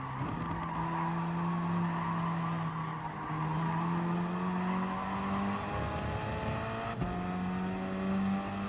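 A race car in Gran Turismo Sport, a Gr.4 race at Dragon Trail Gardens II, spins off with a long tire screech and skid over the steady drone of several engines, continuous and loud throughout.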